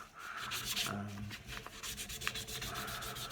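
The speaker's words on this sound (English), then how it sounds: "sandpaper is definitely working a lot better" A golf club shaft grip is sanded by hand with sandpaper, giving a close, quiet, continuous rubbing scrape in quick back-and-forth strokes with no talking.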